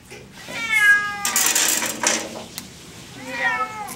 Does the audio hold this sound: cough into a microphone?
no